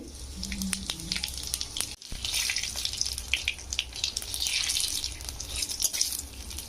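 Bay leaves, dried chillies and whole cumin sizzle in hot oil in a pan, a dense crackling hiss with small pops, close and continuous, broken by one brief dropout.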